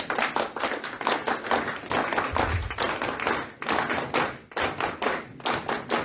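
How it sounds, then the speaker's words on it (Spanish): A crowd at a Día de la Fraternidad celebration in Paterson claps in bursts of applause, dense and steady, with brief dips between rounds. "Y por eso un aplauso al compañero presidente Alan García."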